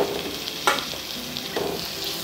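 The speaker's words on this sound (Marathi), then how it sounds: "आणि हा टोमॅटो पण तेलात अगदी छान शिजेपर्यंत मी असा परतून घेणार आहे" Chopped tomato sautéed in oil with kardi shrimp fills the pan with a loud continuous sizzle, and two brief stirring scrapes and clatters cut through it.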